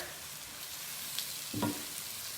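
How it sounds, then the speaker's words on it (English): Tomatoes fry in a pan with a steady faint sizzle, broken near the middle by a brief scrape and clink as they are stirred. "give your tomatoes a stir"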